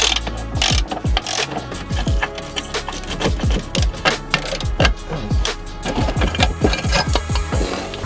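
A socket ratchet clicks in rapid, uneven bursts while unscrewing a corner bracket bolt on a Range Rover Evoque, the sharp metallic ticks close and loud and repeating throughout with brief pauses between strokes.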